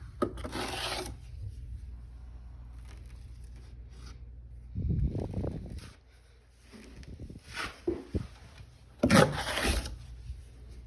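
A putty knife scrapes and spreads a thick first coat of drywall mud over a patched hole, close rasping strokes in a few separate bursts with quiet pauses between them.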